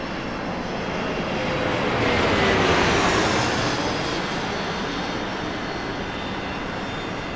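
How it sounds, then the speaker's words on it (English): Ryanair Boeing 737 model on approach at a miniature airport, a steady jet engine roar that swells as it passes close and then eases off slightly, with no talk. "Here is a Ryanair 737 coming in from Milan."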